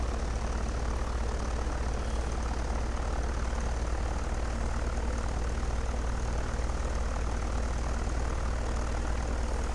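A propeller airplane on landing approach at about 75 knots glide-slope speed, its engine giving a steady, loud, unbroken drone and hum from start to finish with no speech.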